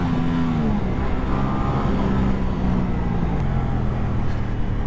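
An Aprilia Tuono 660 motorcycle in its 70 kW version pulls hard under acceleration, a continuous loud engine drone with rising pitch, heard close and steady throughout without talk.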